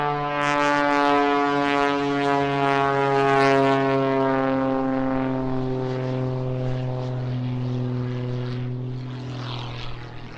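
A Pitts Special jet-assisted aerobatic biplane at a seaside airshow in Eastbourne drones loudly and steadily, its propeller engine holding a strong harmonic tone that shifts slightly in pitch as it passes, with no voices.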